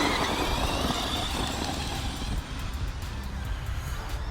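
Arrma Fireteam RC car running under throttle outdoors, a steady broadband whir and rushing motor noise that stays fairly constant and close throughout, with no talking.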